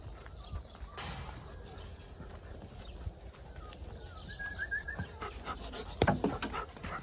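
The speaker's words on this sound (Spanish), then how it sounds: "como están los cachorros" Puppies on a farm yard, sheltering under a pallet, with soft whimpers and panting in a noisy outdoor scene; a person talks nearby and a few thumps and clatters break through.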